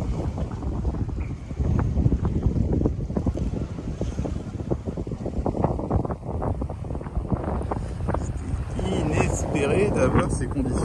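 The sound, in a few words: wind blowing on a sailboat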